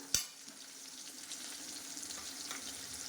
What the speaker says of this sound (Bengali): আলুটা মোটামুটি ভাজা হয়ে গেছে এর থেকে বেশি ভাজা করব না